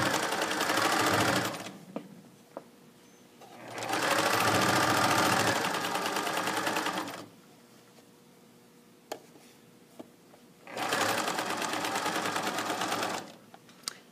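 A sewing machine stitches a waistband casing in three steady bursts of rapid mechanical whirring, each a few seconds long, separated by quiet pauses with faint clicks.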